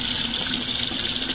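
Tap water runs into a container, about 2 liters, for watering an avocado plant, a steady close rushing splash with no speech.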